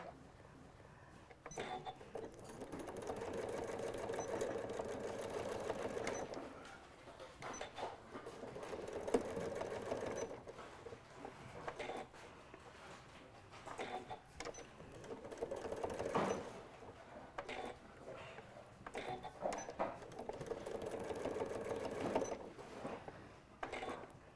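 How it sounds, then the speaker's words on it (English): Sewing machine stitching a Velcro tab on fabric for a stuffed nativity scene, steady rapid needle clatter in long runs with short pauses, close and faint. "let's bring over this tab and also stitch that Velcro right down."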